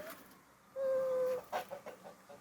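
A single chicken gives a short high call followed by a few soft clucks, fairly close against quiet surroundings.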